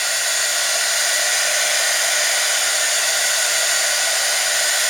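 A craft heat tool blows hot air in a continuous loud, even roar during a demonstration, with no pauses and no voices.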